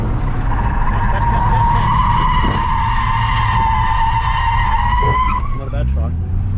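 Tires squeal in a long, loud sustained skid as a car drifts through a corner on Queensland Raceway at night, engine roaring underneath throughout, with voices talking over it.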